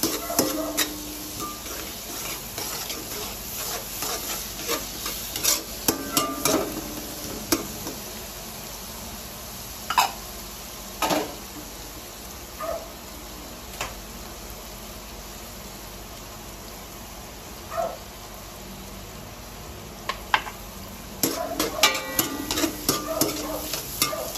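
Shrimp stirred in a pan with golden onions and garlic, a faint steady sizzle under scattered close scrapes and clicks of a utensil against the pan, bursts of stirring coming and going.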